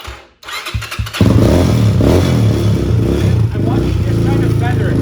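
A motorcycle being brought out of storage cranks briefly with its choke on, catches, and settles into a loud, steady close-up idle with a slightly uneven throttle.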